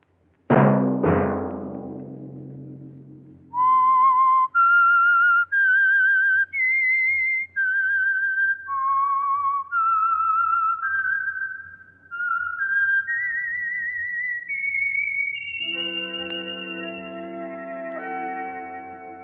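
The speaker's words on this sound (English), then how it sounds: "Let that whistle be your signal for the Signal Oil program, The Whistler, each Sunday night at this same time." A solo human whistler performs the eerie theme tune of the radio mystery show The Whistler, a slow rising and falling melody of sustained clear notes, opening with a struck chime and ending as an orchestra swells in beneath.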